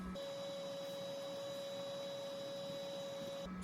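A Flashforge Adventurer 3 3D printer feeding filament hums steadily with a fan-like whir and a sustained high tone, nearby and alone, starting and stopping abruptly.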